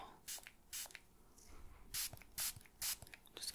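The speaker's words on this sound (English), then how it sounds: "Kind of like spray that on the hair and then rub it in" Several short, bright hissing bursts of hair mist from a spray bottle, spaced irregularly, close by with faint rustling between them.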